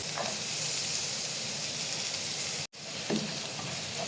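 Small onions and garlic sizzle steadily in hot oil in a pan, a continuous close, dense hiss that cuts out for a split second near the end before resuming.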